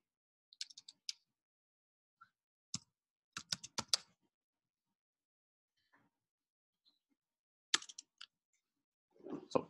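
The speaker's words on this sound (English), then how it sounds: "I'm typing on a Mac, and the Mac doesn't like me." Keystrokes on a Mac keyboard come in short, sparse bursts of crisp clicks with pauses between them, close and quiet and heard alone.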